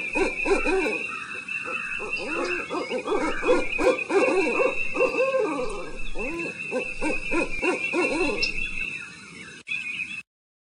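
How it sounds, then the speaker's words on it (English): Repeated owl hoots, close and fairly loud, in a quick run of wavering calls over a faint high-pitched insect hum. "An owl made this sound."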